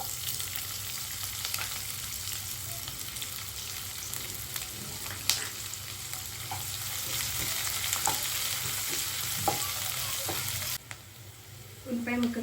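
Crushed garlic and onion pieces fry in a pan for dal fry, giving a loud, continuous close sizzle with occasional stirring scrapes and knocks throughout.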